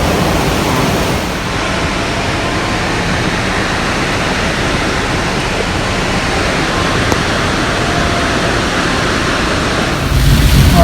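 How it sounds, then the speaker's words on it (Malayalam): Heavy rain falls in the Idukki countryside near Valara waterfall, a loud, unbroken broadband roar that holds steady throughout. "ഭയങ്കര മഴയാണ്."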